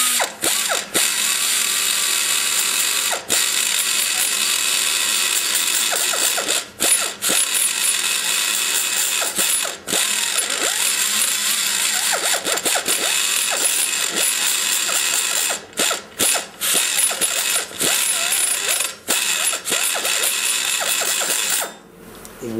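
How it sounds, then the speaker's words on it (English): A 3/8 burr in a high-speed die grinder cuts into a big-block engine's cylinder head combustion chamber, giving a continuous loud, shrill whine. It drops out in several brief pauses and stops near the end. "What I'm doing right now is I'm switching to the 3/8 burr to pull her down."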